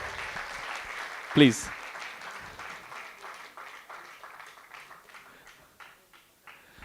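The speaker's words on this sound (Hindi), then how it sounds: "तालियां बजती रहनी चाहिए ताकि प्रभु जी जल्दी से आए।" An audience at a youth summit applauds a guest coming on stage, a broad wash of clapping that peaks early and slowly thins out while someone speaks briefly over it.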